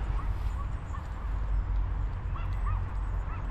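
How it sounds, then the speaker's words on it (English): A dog yips and barks a few times at a distance over steady low rumbling noise, faint and intermittent. "Can you pick up that dog barking?"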